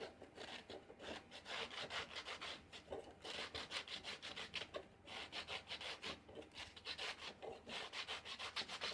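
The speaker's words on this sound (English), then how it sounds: "There's a bit of crap around the edge I need to sand." Sandpaper rubs back and forth along the edge of a fan part held in a jig, a quiet, rhythmic scratching in quick repeated strokes with short pauses between bursts.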